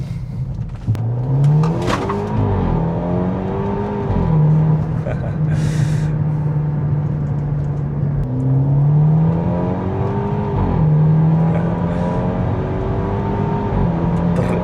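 A 2014 Audi with an EA888 turbocharged engine revs repeatedly, rising and falling pitch sweeps with turbo whistle, close and loud, someone talking briefly over it.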